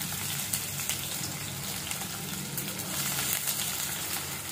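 Onions frying in oil in a pan with a dried red chilli while cooking chicken curry, giving a steady broadband sizzle that stays close and even throughout, without speech.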